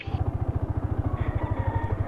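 Motorcycle engine running nearby with a fast, even pulsing throb of beats that stays steady and moderately loud for the whole stretch, with no talking.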